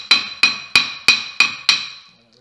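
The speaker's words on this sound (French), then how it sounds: "N'hésitez pas à taper dessus, ça permet de faire tomber la merde et de le faire bouger un petit peu." Six sharp metallic hammer blows ring out at a steady beat on a car brake disc being knocked loose during a pad and disc change, each clang decaying briefly, close and loud with no talk.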